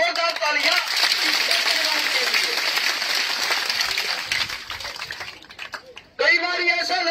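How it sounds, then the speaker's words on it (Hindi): Loud applause from a crowd at a village gathering (mahapanchayat), dense clapping filling most of the clip, dipping briefly before surging back at the end with some voices mixed in. "एक बार जोरदार तालियां।"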